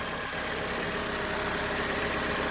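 An old car with a weak, low battery idles steadily after starting, a continuous close engine rumble with no talk.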